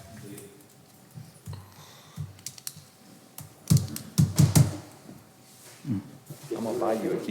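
Someone taps on a computer keyboard in a meeting room, with scattered soft clicks and a short burst of keystrokes under murmured talk and room noise.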